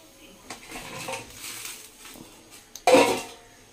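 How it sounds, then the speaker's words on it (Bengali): Fried bhetki fish bones with potatoes tipped into a simmering curry in a pot, giving a short clatter of utensil against cookware after quieter kitchen handling, with one sharp knock near the end. "তো এবার আমি ঝোলের মধ্যে ছেড়ে দেবো সেই মাছের কাঁটাগুলো"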